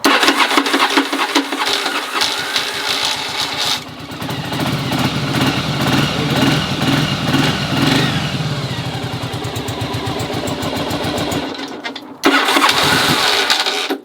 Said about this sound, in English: Don't judge me because the starter's loud. Viragos do that.